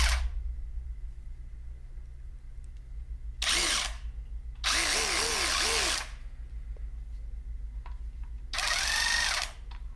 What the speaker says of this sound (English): So depending on the amount of pressure that you're pushing from the trigger, that's how much speed is going to go to the ratchet